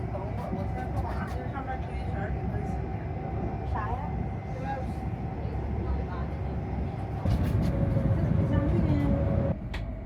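A steady rumbling roar of a high-speed train running in winter, with rattling and a low hum that grows heavier partway through.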